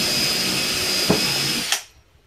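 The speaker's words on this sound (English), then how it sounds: "you want to just drill a hole through that gets your conduit" A cordless power drill boring a hole through a wall for conduit, a steady high whine running for nearly two seconds before stopping abruptly.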